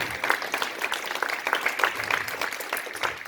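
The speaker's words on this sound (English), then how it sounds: "You can definitely clap for that." Audience applause at a Lions Club 90th anniversary gathering, a steady burst of many hands clapping in a room, moderately loud and fairly close, with no talk over it.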